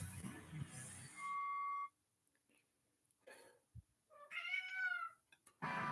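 A cat meows a few times, with a long drawn tonal cry near the start and another wavering meow later, close and fairly clear amid quiet gaps.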